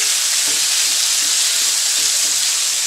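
Keto scampi shrimp fry in a hot pan with a loud, even sizzle that holds steady throughout, close up and free of any voice.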